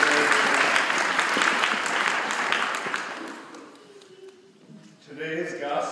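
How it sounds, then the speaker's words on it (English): Church congregation applauding, dense clapping for about three seconds that fades out before a voice begins speaking at the end. "applause"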